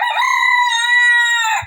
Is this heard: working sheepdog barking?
no